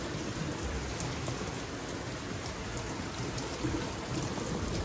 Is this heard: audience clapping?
no